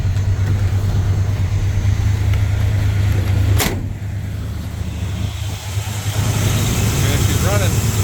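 A Chevrolet squarebody pickup with freshly adjusted valves settles into an idle right after starting, a steady low rumble that dips briefly after a sharp clunk partway through, then carries on evenly.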